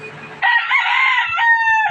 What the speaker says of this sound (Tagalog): Ayan, mga manok natin